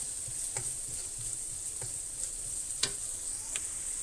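Onions and vegetables for village-style nasi goreng fry in a pan with a faint, soft sizzle, broken by a few light clicks and taps of stirring.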